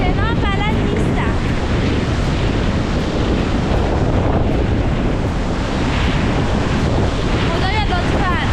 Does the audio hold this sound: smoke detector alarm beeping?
no